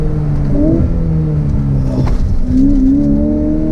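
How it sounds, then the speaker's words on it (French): A Ferrari F8 Spider engine revs loudly and close, its pitch climbing and dipping in a smooth, growling drone, and a brief burst sounds partway through. "dès qu'on dépasse les 3000 tours minute, les valves s'ouvrent et c'est vraiment scotchant comment tu les entends s'ouvrir"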